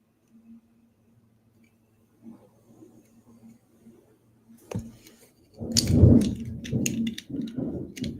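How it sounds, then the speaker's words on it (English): Thunder from a storm in the area rumbles in low and rises to a loud, rolling peak, with rain-like crackle and hiss over a faint indoor hum. "right now we have like storms in the area, so you might hear some thunder"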